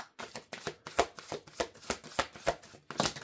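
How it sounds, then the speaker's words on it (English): A deck of cards being shuffled repeatedly, crisp riffling bursts in a steady rhythm, close up with no talking. "Last shuffle."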